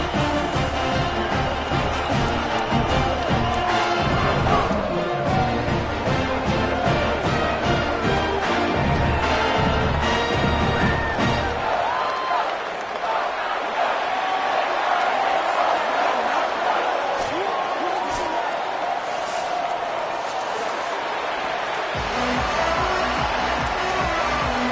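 Home crowd at a college football game roaring before kickoff, a broad sustained stadium din heard under a commentator's voice and band music early on.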